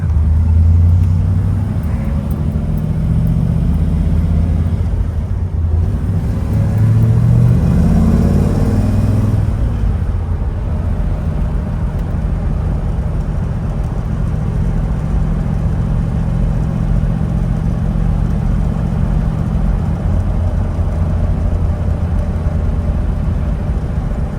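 A 1966 Chevelle SS in factory Aztec Bronze gives a deep, loud engine rumble, with a few revs swelling early on before it settles into a steady idle, and no talking.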